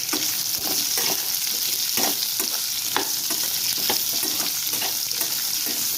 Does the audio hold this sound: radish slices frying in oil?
yes